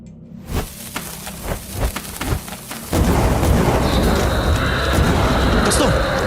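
Dynamite sticks blow up one after another outside a fortress, a run of sharp booming blasts that gives way after about three seconds to a dense, continuous roar of rumbling explosions and debris, loud and close.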